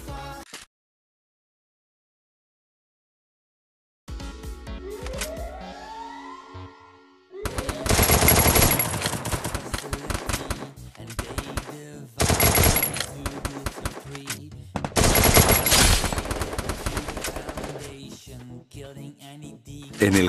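A Thompson submachine gun fires in the Free Fire game: after a quiet start and a rising tone, loud rapid automatic bursts repeat several times with short breaks between them.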